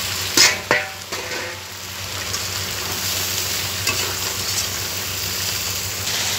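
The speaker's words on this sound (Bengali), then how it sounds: "কষিয়ে নিয়ে, ভালোভাবে কষিয়ে নিয়ে মাছের মাথাগুলো এবার দিয়ে দেবো" Fish heads sautéing in a spiced oil paste in a pan, a loud close sizzle opening with a few sharp spatula knocks, then settling into a steady frying hiss, with no talking.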